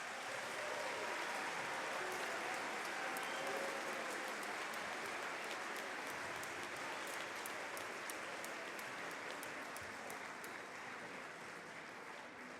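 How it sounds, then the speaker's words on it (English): An audience at a middle school band Christmas concert applauds with a dense, steady wash of clapping that holds at an even level throughout and sounds fairly distant. "Let's give them one more round of applause"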